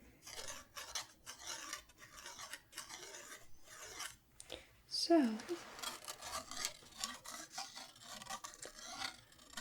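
A dry raspy scraping of textured Shrinky Dinks shrink plastic sheet being rubbed, repeated in short strokes, with a few spoken words breaking in midway.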